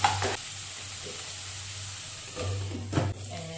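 Ginger garlic paste sizzles with onion in a hot pan, a steady, close frying hiss with a few stirring scrapes.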